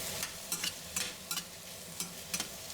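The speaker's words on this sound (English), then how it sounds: "Then give a few more stirs." Eggplant pieces seasoned with salt and black pepper are stir-fried in a hot pan over medium heat, producing a quiet background sizzle with about six crisp scraping stirs spaced irregularly, and no voices.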